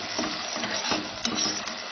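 Thinly sliced onions fry in oil for tandoori chicken biryani, a close, busy sizzle broken by a few scraping stirs of a spoon against the pan.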